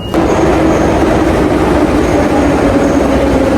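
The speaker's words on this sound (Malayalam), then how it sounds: "പഴയകാല സോവിയറ്റ് ട്രെയിനാണ്" Old Soviet-era metro train in Tashkent running steadily through a tunnel, a continuous loud rumble with a sustained hum and faint wheel squeal, no talk.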